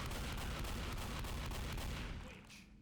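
Shotgun blasts in the Left 4 Dead video game as a witch is killed, a dense, loud, continuous roar of booming fire that fades out toward the end.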